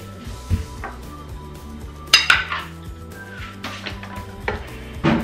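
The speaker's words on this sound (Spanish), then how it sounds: "Cerramos la olla y le damos turbo" Metal lid and pot sounds from a GM cooking pot in a kitchen: scattered clanks and clinks, with a sharper knock partway through and a few lighter taps around it, close by and moderately loud, no voices.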